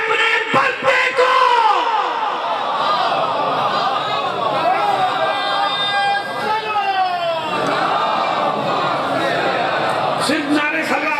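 At a majlis in Dera Ghazi Khan, a large crowd of voices loudly chants religious slogans in a continuous roar, with a lead voice rising over the mass of chanting throughout.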